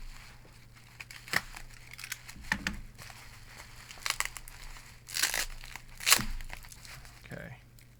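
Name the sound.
opening a taped package, tape and packaging tearing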